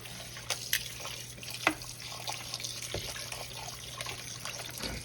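Chitterlings rinsed under running tap water in a kitchen sink, a steady close faucet stream with intermittent splashes and sharp drips, no talking.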